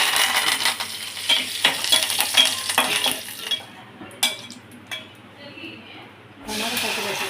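Curry leaves dropped into hot tempering oil for tomato chutney: a loud, crackling sizzle that fades after a few seconds, followed by scattered metallic clinks of a spoon against the pan.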